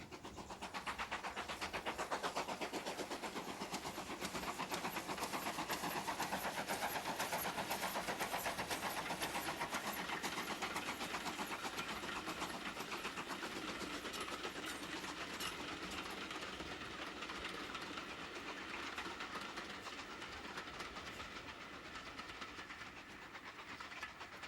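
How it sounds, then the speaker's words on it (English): A GWR modified Hall class steam locomotive, number 6960 Raveningham Hall, rumbles past with a continuous, loud, broadband roar and rapid rhythmic chuffing that holds steady for the whole stretch, with no voices. "Another Great Western locomotive, modified Hall class, number 6960, Raveningham Hall."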